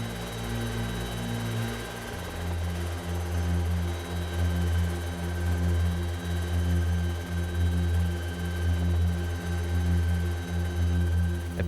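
A loud helicopter drones steadily nearby during a rescue off Gough Island, its rotor thumping in a fast, even rhythm with a constant engine whine above it.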